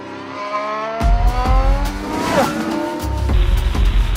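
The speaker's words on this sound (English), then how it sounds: "Car on track." A Red Bull Formula 1 car driven by Max Verstappen at Silverstone, its engine howling loud and close as the pitch climbs and sweeps through gear changes, with a brief tire squeal as it passes.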